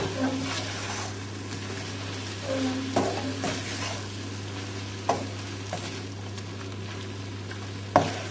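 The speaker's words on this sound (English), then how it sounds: "just stir in the parsley and we'll be ready to plate up" Parsley being stirred into creamy bacon and mushroom tagliatelle in a pan with the heat just turned off, a soft steady sizzle under gentle scraping strokes and a couple of sharp utensil knocks against the pan.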